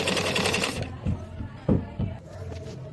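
A sewing machine stitches a folded fabric strip into a neckline, giving a steady mechanical run for most of the stretch, then several short separate bursts of stitching close by, with no talking.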